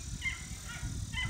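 Game birds kept around dog training grounds give short honking calls, several in quick succession, at moderate distance with steady outdoor background noise.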